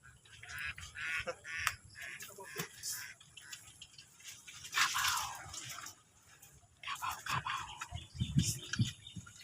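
Steady rain patters and drips nearby on a farm in Panabo City, Philippines, with splashing water and a crow cawing faintly in the background; hushed voices come and go.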